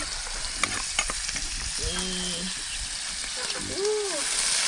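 Pounded konjac stems tipped into a hot cooking pot for a hill-tribe konjac soup and stirred, giving a broad steady sizzle with soft stirring scrapes, close by, and a voice talking briefly over it.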